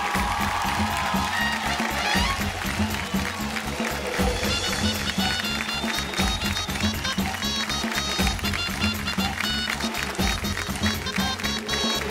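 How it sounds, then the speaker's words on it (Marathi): Loud, sustained applause and cheering from a studio audience celebrating the winner of a Marathi TV show, with music-like rhythmic backing running under the clapping throughout. "जोरदार टाळ्या"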